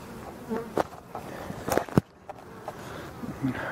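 Bees buzz close by in a forest with intermittent whirring bursts and soft knocks, the drone rising and fading as they move around.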